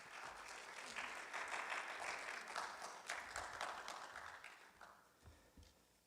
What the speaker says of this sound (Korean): 우리 목사님 나오실 때 뜨거운 환영의 박수로 목사님 맞이하겠습니다.